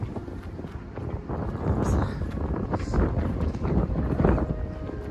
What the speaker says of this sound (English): Back here is pretty windy